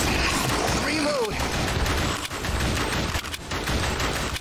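Steady, dense gunfire from House of the Dead Remake on PC, a loud and unbroken wash of shots that runs for the whole stretch with no clear pauses between them.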